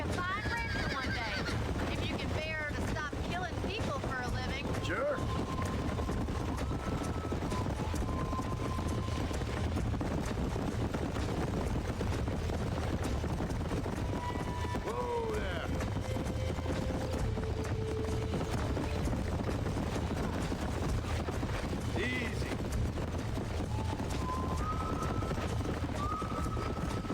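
A bucking bronco in the Red Dead Redemption video game whinnies repeatedly while its hooves clatter and thud, all over a constant, dense game soundscape.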